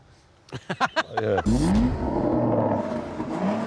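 A Porsche four-seat supercar accelerates hard from a standing start, with a few sharp, loud revs followed by a rising engine roar that sweeps upward through the gears and stays close and dominant to the end.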